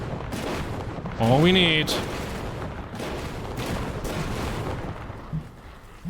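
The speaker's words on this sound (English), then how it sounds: "Oh, here come the rockets." Incoming rocket artillery fire in the PC game Gunner, HEAT, PC!, a burst of loud whistling streaks followed by repeated booming impacts and rumbling battle noise, with a voice speaking briefly over it.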